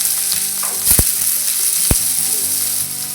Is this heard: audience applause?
no